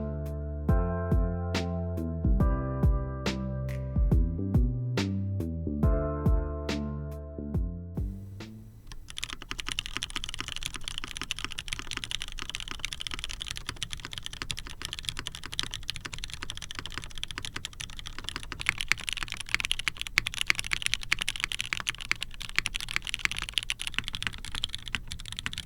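Steady clacky typing on a Jane V2 ME mechanical keyboard, dense rapid keystrokes close up, following a stretch of tonal music at the start.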